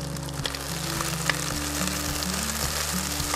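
Mixed vegetables, peppers among them, frying in a pan and getting a brief stir, with a steady close sizzle and a few soft scraping knocks against a low background hum.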